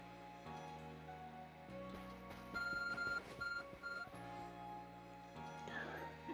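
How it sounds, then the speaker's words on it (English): An ARC phone in the video game Pokémon Legends Arceus beeps in a short repeating electronic tone pattern over ambient game music. "Your ARC phone is beeping."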